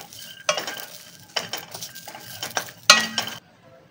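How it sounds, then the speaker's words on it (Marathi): Green chillies, garlic cloves and ginger dry roasting in a pan, with a utensil stirring and scraping in several distinct bursts and a faint sizzle throughout, close and fairly loud. "हे सर्व आता आपल्याला भाजून घ्यायचं आहे"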